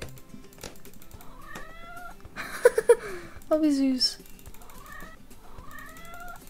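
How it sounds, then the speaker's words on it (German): A cat meows repeatedly in Bloons Tower Defense 6 game audio, with short tonal calls and a louder, drawn-out yowl in the middle, while someone speaks briefly over the game sounds. "Ja, so hört sich eine Katze an."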